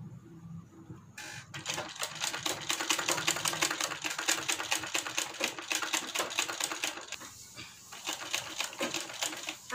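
A sewing machine stitching a kurti, a fast even run of needle clatter lasting several seconds after a short start, close and fairly quiet, with no talk over it.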